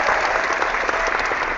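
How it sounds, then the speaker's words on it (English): Steady applause from a crowd, dense clapping throughout the short stretch. "That deserves an applause right there."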